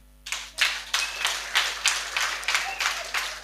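A church congregation at a prayer and deliverance service claps hands in a steady series of bursts, loud and fairly close, with a faint hum underneath.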